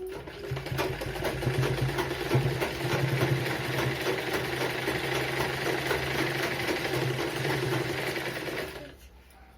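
An electric sewing machine stitches fabric in a fast, steady mechanical chatter, close and loud, running continuously for several seconds before stopping abruptly near the end.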